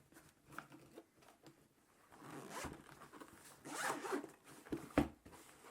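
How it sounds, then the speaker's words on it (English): A zipper is pulled open around a soft-shell travel case holding a TOPDON V2200+ jump starter and battery tester, quiet at first, then a couple of louder, close, rasping pulls. "Zip it open, and here we are."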